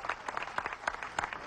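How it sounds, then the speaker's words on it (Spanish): Brief crowd applause at a political rally in Vargas, Venezuela, heard faintly and at a distance as scattered claps for just over a second. "desde aquí nuevamente un aplauso"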